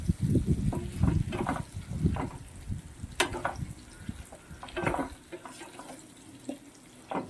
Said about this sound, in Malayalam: ഓരോന്നായിട്ടിട്ട് അത് എണ്ണയിൽ ഇങ്ങനെ നമ്മൾ ഫ്രൈ ചെയ്തെടുക്കും.